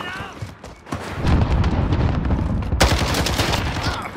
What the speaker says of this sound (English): then he starts shooting me